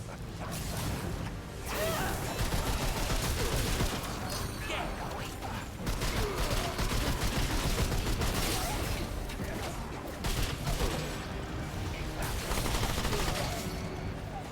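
Dense, continuous gunfire in the Remnant 2 video game on Apocalypse difficulty, rapid crackling bursts with mechanical clatter and impacts that run almost without pause, loud and busy throughout with no clear gaps.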